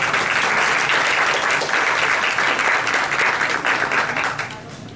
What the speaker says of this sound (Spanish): Un aplauso para el profesor Castro